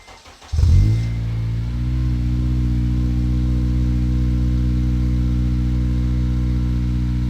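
An 8th-generation Honda Civic Si with a 3-inch full race catback exhaust cranks briefly and fires up, then settles into a steady, deep, droning idle that holds loud and even close to the car.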